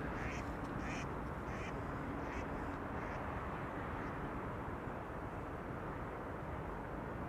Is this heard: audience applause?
no